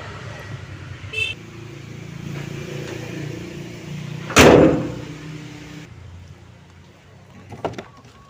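A Toyota Kijang diesel car out on a test drive to check its clutch plate: a low, steady engine drone runs throughout, broken by one sharp thump midway, after which the engine note drops away to a quieter rumble.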